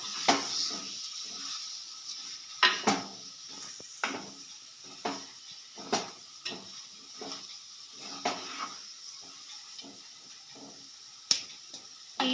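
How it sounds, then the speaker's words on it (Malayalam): Ground masala is stirred into a chicken curry in a pot. Soft, irregular spoon scrapes and clicks repeat quietly over a faint background hiss. "പൊടിച്ചു വെച്ചേക്കുന്ന മസാല എല്ലാം കൂടി ഇട്ടൊന്ന് ഇളക്കാം."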